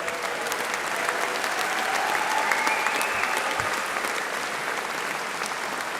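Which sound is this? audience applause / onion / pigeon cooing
audience applause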